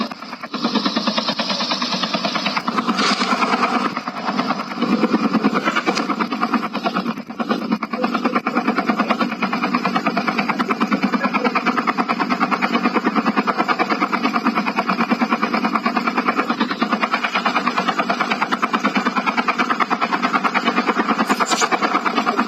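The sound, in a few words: helicopter engine in video game Call of Duty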